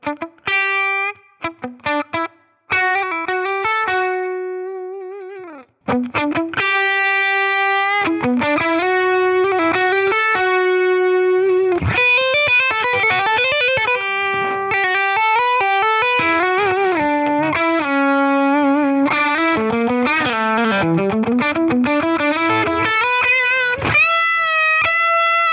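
A clean electric guitar is fed through stacked compressors and plays a run of single notes and chords, each ringing with long, even sustain. It is close and bright, and no one speaks.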